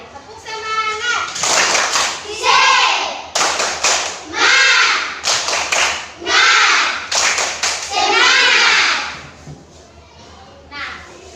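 Young pupils in a classroom perform a rhythmic 'tepuk semangat' cheer, chanting together in bursts punctuated by sharp clusters of hand claps, with a teacher's voice leading at the start.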